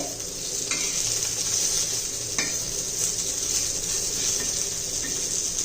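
Continuous crackling sizzle of a sesame and curry leaf tempering in hot oil, with a few light clinks of a utensil stirring the pan.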